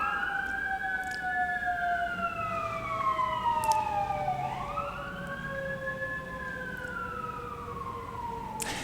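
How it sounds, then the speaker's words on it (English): Emergency sirens wail and sweep up and down in pitch as vehicles pass by, loud and steady over low road rumble, with no talking. "let the sirens go by for a minute"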